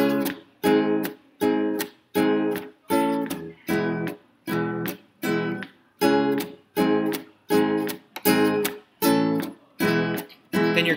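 Rhythmic guitar upstrokes on the upbeats, short bright chord bursts in an even pulse about once per second, each separated by brief gaps, continuing steadily throughout.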